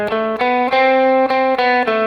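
An electric guitar with a slightly distorted tone plays the Lydian sharp 2 augmented scale, the sixth mode of harmonic major, as a quick run of about eight clear, evenly picked notes, close and loud.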